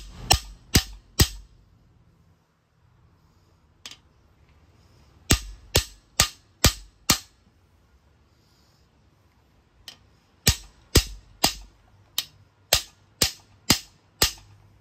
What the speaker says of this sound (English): Bigger hammer might actually help here.